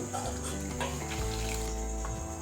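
Hot water pours and splashes as flattened rice (chira) is washed, a steady close running-water sound from start to end with no talking.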